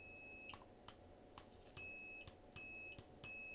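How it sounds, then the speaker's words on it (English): A homemade Arduino alarm clock with a button emits short electronic beeps in an irregular series, about eight sharp bleeps over a faint steady hum. "that's gonna be our alarm"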